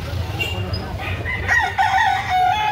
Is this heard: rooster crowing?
yes